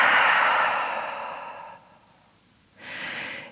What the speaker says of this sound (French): Ouvre la bouche, expire.